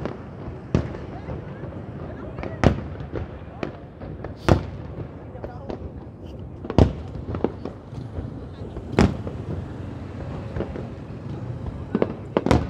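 Lunar New Year fireworks for the 2020 Year of the Rat boom in loud, irregular bursts, each sharp bang ringing out over a steady crackling, fizzing backdrop.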